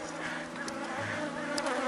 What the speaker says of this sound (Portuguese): uma abelha que não é agressiva